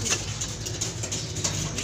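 Racing pigeons in a loft give soft, low cooing over a continuous rustling patter, with brief high chirps now and then and no voices.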